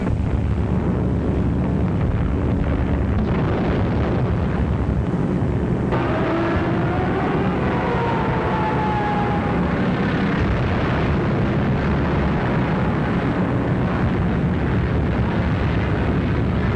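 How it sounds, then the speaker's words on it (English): Wartime air raid from a 1943 film, with bombs exploding: a continuous loud, dense rumble of blasts and roaring engines, plus a brief descending whistle partway through, all without speech. "Unopposed bombing raids sent defenseless civilians fleeing in stark terror."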